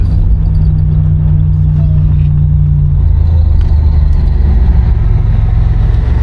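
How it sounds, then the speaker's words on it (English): A 1987 Buick Grand National cruises down the road, its engine a steady low drone with constant road and wind noise throughout, the pitch shifting slightly partway through as it drives on. "Sounds like a Grand National."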